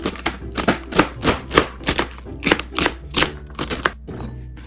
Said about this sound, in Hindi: और यहाँ पे मेरे पास सेलरी है, इसके मैं ज़रा छोटे काटूंगी